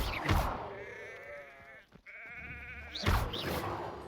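Sheep bleating in the video game Hogwarts Legacy: two loud, wavering bleats, one near the start and a longer drawn-out call in the middle, with a sharper cry near the end.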